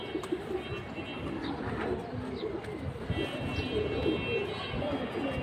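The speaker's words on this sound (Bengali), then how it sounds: "এর জন্য এগুলা নজর কাড়া কবুতর" High-flying pigeons coo repeatedly in soft, throaty phrases, close by and overlapping against a light background hum.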